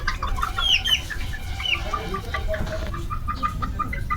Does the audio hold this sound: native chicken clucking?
yes